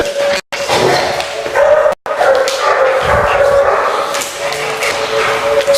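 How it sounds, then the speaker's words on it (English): Several excited dogs in a room bark and yip loudly and steadily, with whimpers and whines between barks, the noise continuing throughout with only two brief gaps. "we have two other dogs in the room"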